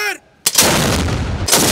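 A single cannon of a ceremonial gun salute in Islamabad, Pakistan fires with a sudden heavy boom that rumbles on, following a brief shouted command and a short silence.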